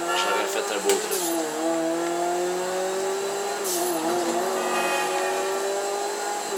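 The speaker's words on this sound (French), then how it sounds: "Et voilà, un beau drift." A car drifts in the video game GTA 5 Online, with a continuous engine drone and tire squeal that bends in pitch through the slide, steady and fairly loud throughout.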